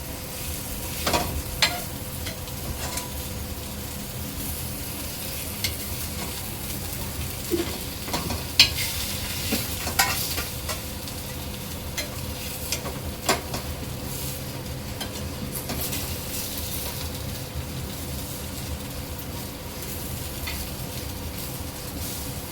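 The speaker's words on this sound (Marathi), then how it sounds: "आता हे सुद्धा झाकण देऊन आपल्याला मस्तपैकी तळून घ्यायचे आहे" Elephant foot yam (suran) slices fry in oil in a covered pan, giving a steady, dense sizzle throughout with a few faint clinks and stirring knocks, close and continuous.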